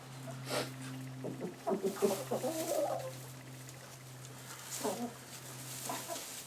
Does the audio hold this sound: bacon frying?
no